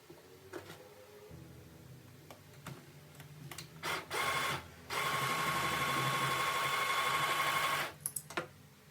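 A sewing machine stitches the shoulder seam of a coquette top. Short clicks and brief runs build to a sustained, close whirring stitch of about three seconds, then stop with a few final taps.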